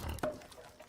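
A single short, faint grunt from a pig in a farming video game, over a quiet background.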